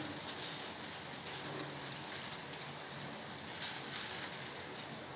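Milk kozhukattai rice dumplings go into a pot of boiling water, giving a continuous close hiss of bubbling and faint crackles without any talking.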